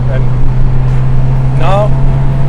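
A 1980s-style Opel Kadett GSi Superboss, set up as a racing car, drones steadily while being driven, its constant low engine hum running throughout with a brief voice passing over it.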